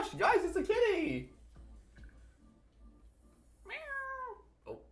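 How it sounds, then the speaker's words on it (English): A house cat gives a short meow near the end after a burst of excited human talk, followed by a brief second chirp, close and moderately loud in an otherwise quiet room. "Oh my gosh, guys, it's a kitty."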